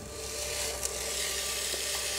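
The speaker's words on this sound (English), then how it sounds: "I hear the sizzle." Seasoned burgers sizzle on the grill plate of an Emeril Lagasse French door air fryer oven, a steady close crackling hiss with a few brief pops.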